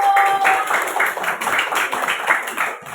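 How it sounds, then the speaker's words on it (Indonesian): Lively applause from a classroom group, many hands clapping together in a dense, steady patter with a few voices mixed in. "Tepuk tangan untuk kelompok 1"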